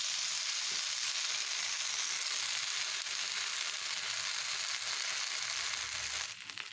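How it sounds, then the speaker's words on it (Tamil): Mashed potato pieces for a potato roast fry in a pan with a steady, loud sizzle that fills the whole stretch, easing slightly near the end, with no talking. "அதை வந்து ஒன்று ஒன்றா போட்டு ஃப்ரை பண்ணி வச்சுக்கலாம்"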